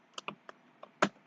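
Typing on a computer keyboard while entering text in Microsoft Word: six or so separate close, crisp key clicks at uneven intervals, one louder space-bar-like press near the end, no voices.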